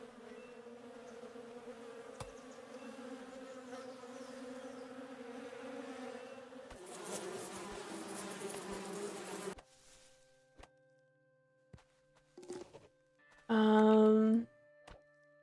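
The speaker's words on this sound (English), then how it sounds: "If we search the bee tree, do we potentially get bee resources? Or do we have to kill the bees?" Bees buzz around a bee tree in the video game Above Snakes, a steady insect drone that runs for several seconds, drops away, then returns in short bursts, the last one loud and close.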